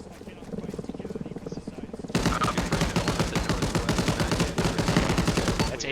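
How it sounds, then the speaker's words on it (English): AK rifle fire coming from a building in the military game Arma Reforger, starting as a lighter rattle and then jumping to loud, continuous automatic bursts that fill the scene, with voices faintly underneath. "That's AK fire coming from this building where the blown up BMP is."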